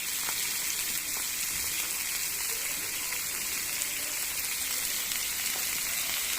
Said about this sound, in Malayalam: ഞാൻ മീൻ വറുക്കാനായിട്ട് വെച്ചിട്ടോ